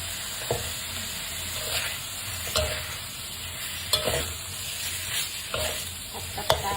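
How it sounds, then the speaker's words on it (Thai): Thai three-companion paste stir-fried in a pan hisses with a continuous sizzle, while a utensil scrapes and knocks against the pan in regular strokes about every second or so. "ผัดเครื่องสามเกลือให้หอมก่อนนะคะ"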